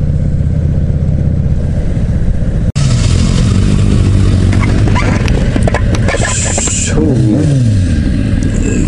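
A Harley-Davidson Night Rod motorcycle starts and pulls away with a deep rumbling engine that revs and rises in pitch as it rides off, loud and close, with faint voices around.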